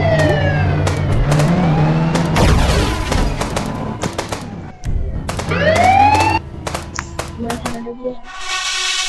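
Police car sirens wail in the mobile game Indian Bike Driving 3D, mixed with revving engines and sharp gunfire bursts, loud and busy, before the clip drops to quieter effects near the end.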